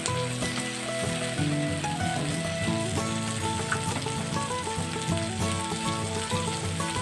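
Chopped tomato sizzles with softened onions in a pan, a loud, dense, continuous frying crackle heard up close, with no talking.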